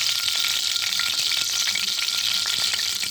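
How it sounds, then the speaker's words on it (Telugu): Mustard seeds sizzle and pop in hot oil, a dense, continuous close-up crackle with small scattered spits throughout. "నూనె కాలిపోయిందండి. ఇప్పుడు మనము ఫస్ట్ ఆవాలు వేసేసి"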